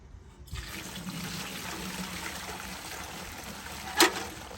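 Homemade walnut stain poured into a container makes a steady liquid trickle and splash, close and moderately loud, with a brief sharp knock near the end.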